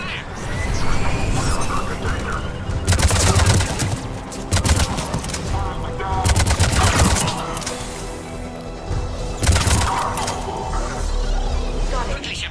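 Sci-fi firefight in Mass Effect 3, bursts of rapid automatic gunfire and heavy shots at a checkpoint, several loud volleys separated by short pauses among mechanical clatter.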